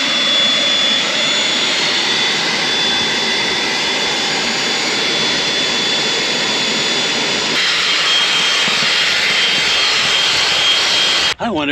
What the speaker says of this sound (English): Let's get on to vacuuming that out.